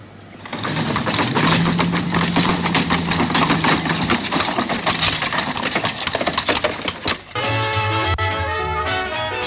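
A Fiat 126's small engine runs loudly and steadily with a rattling, buzzy idle, then the tone shifts to a higher, smoother hum near the end.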